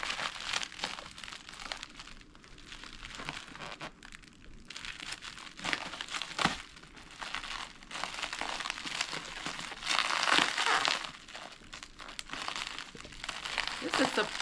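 Packaging paper and bubble wrap crinkle and crunch continuously as a taped, peanut-packed parcel holding clay La Chamba pots is unwrapped by hand. The rustling is close and busy throughout, with swells and short pauses.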